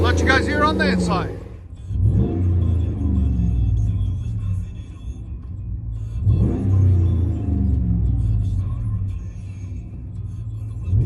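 Inside the cab of a 2017 RAM 1500 5.7L HEMI with Gibson cat-back dual exhaust, a low engine drone builds in two strong revs that climb and ease off, with a steady rumble between them.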